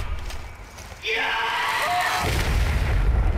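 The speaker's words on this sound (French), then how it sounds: "Une bombe humaine." A suicide bomber zombie blows up in the video game Zombie Army 4, a sudden deep booming blast that rolls on loudly, with talk starting right after it.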